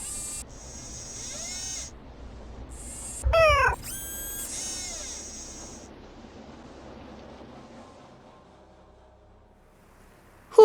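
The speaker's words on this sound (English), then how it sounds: "Who's my favorite robotic cat?" A robotic cat in a Nancy Drew video game meows several times in clear, synthetic-sounding bursts, with a louder electronic chirp midway and a quiet stretch before a final short burst.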